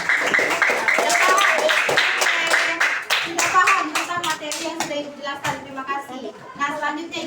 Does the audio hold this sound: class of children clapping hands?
yes